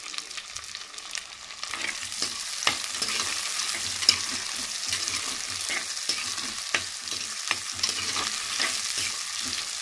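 Tomatoes sautéing with rock salt in a pan for a roasted garlic kulambu, with a light continuous sizzle and repeated sharp stirring scrapes and clicks of a spoon, close up, no voices.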